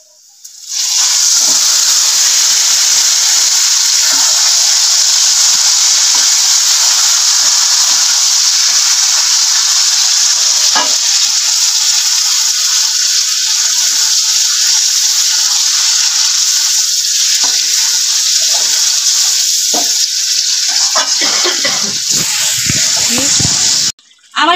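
Chicken meat for biryani hits a hot pan with fried onions and sets off a loud, close, sustained hissing sizzle that holds steady for over twenty seconds before cutting off abruptly.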